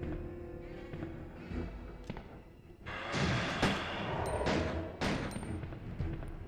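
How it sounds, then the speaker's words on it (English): Gunfire crackles in Resident Evil 2 as Ada shoots, a quiet stretch of shots giving way to a louder, denser burst of repeated cracks and thuds in the second half. "Come on, Ada, shoot him."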